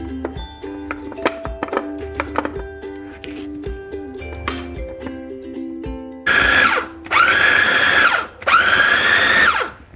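Rhythmic clinking and tapping gives way to a blender roaring in three loud bursts, its motor pitch bending as it grinds thick dumpling meat filling.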